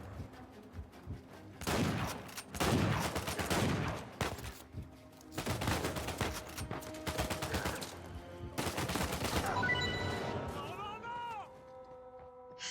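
Bursts of automatic gunfire and rapid shots ring out during a cemetery fight in Uncharted 4 on PS4, loud volleys in several clusters separated by brief pauses, ending with ringing metallic tones.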